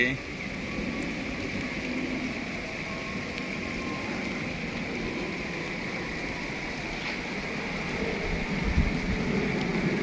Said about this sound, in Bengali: এই তো চলতেছে বৃষ্টি